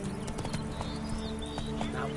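Roach, Geralt's horse in The Witcher 3, trotting with steady rhythmic hoofbeats, close and clear over continuous background game ambience and faint birdsong.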